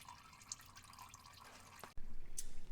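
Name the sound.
engine oil draining from a 2013 Dodge Charger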